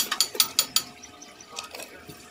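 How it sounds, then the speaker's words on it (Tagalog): A ratchet wrench with a 19mm socket loosens a motorcycle wheel, giving a quick run of about five sharp, close clicks, then a few fainter clicks after a short pause. "Gamit lang tayo ng 19mm na socket o kaya back wrench."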